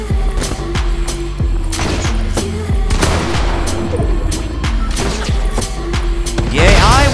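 Pistol gunfire in a video game, a rapid series of sharp, loud shots in irregular bursts with booming impacts, layered over game sounds and talking.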